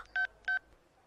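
Two crisp touch-tone keypad beeps from a phone being dialed, evenly spaced and loud in a quiet room, with no talking.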